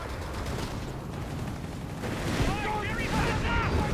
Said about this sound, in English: Artillery barrage on the way.